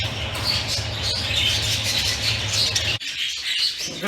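A young light green cock bird gives repeated high squawks and chirps, close and fairly loud over a steady low hum that cuts out near the end while the calls continue.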